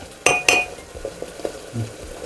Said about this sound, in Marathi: एकदा ढवळूया ती शिजतीये छान